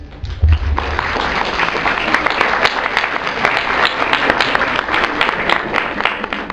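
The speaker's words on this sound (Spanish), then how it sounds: "el aplauso no sonó muy fuerte" Audience applause after a lecture on animal biotechnology: dense, sustained clapping from a crowd filling the whole stretch at steady loudness, with individual sharp claps standing out.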